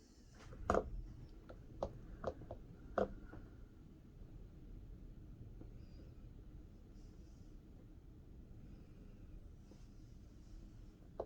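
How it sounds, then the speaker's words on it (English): A big storm's wind outside, heard from down in a basement as a steady, muffled low rumble, with a few sharp taps in the first few seconds. "Can you guys hear the wind outside?"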